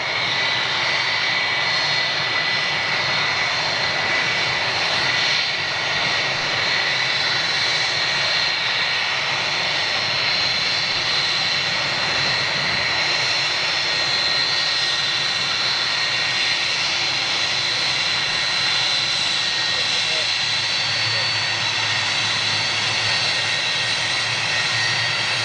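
A TUI Boeing 757 with Rolls-Royce RB211 jet engines roars steadily at close range for the whole stretch, a dense broadband engine rush with a high whine on top, unbroken and with no voices over it.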